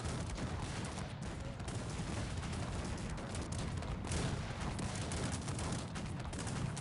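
Massed cannon fire in the real-time strategy game Cossacks 3, a dense, continuous roar of overlapping booms and crackling volleys at steady volume, with no break throughout.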